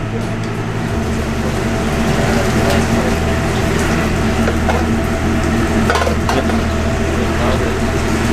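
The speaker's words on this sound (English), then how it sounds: "That's where that caramelization, that juice is coming out of that steak, starting to hit the grill, starting to flame up a little bit" Ribeye steak, hand-cut choice beef, dripping juices onto a restaurant grill so the fire flares up: a loud, steady sizzling roar that fills the whole stretch, with a voice faintly underneath.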